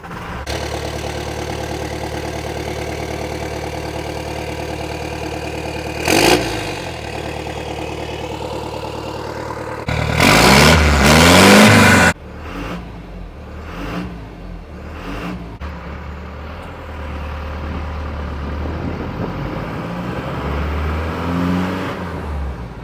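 Rumbling diesel engine of a Jeep LJ with a Cummins 4BT swap idles, then revs hard in a loud burst before settling back to a rough, throaty idle, close by.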